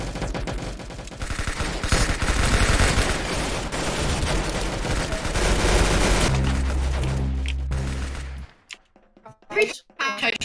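Dense, loud gunfire from a shooter video game rattles in continuous bursts for about eight seconds, then a low tone takes over before the shooting stops, leaving a few quieter scattered sounds.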